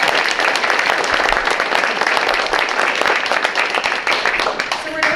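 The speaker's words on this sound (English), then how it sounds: "first a round of applause," People at a beer brewing meeting clap in a steady, dense round of applause that holds at an even loudness for several seconds.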